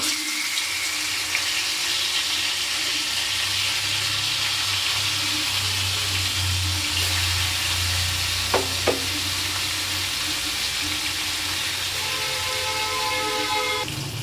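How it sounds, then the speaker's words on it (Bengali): Fish fries in hot oil with a steady crackling sizzle that carries on for many seconds, joined by a couple of brief clinks partway through. "এই যে তেলটা গরম হয়ে গেছে, এবার একটা একটা করে মাছ আমি ছেড়ে দেব।"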